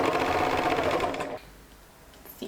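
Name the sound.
sewing machine sewing baby romper seam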